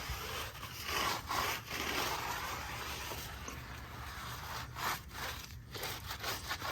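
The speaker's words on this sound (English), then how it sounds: "got an Adams tire brush here. Give it a good scrub." An Adam's tire brush scrubs a knobby General Grabber tire on a Jeep Wrangler, with close, loud, rhythmic back-and-forth bristle strokes running continuously.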